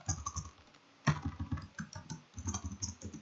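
Computer keyboard typing during Python program input, a rapid run of close, crisp key clicks in bursts with a brief pause partway through, no voices.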